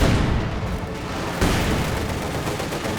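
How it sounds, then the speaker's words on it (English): Grenades exploding in the real-time strategy game Company of Heroes 2 during a 1v1 battle, dense rumbling blasts and gunfire packed together, loud and continuous with a fresh burst partway through. "Grenades going off."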